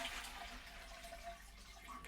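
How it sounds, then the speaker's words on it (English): Toilet in a holiday caravan flushing, with a leak when flushed: a steady, close rush of water running throughout, fairly quiet and without speech. "Toilet is leaking when you flush it."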